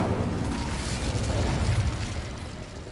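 Dull, sustained booming rumble of Confringo fire-spell explosions in Hogwarts Legacy, a continuous blast wash with no clear separate hits, fairly loud and steady.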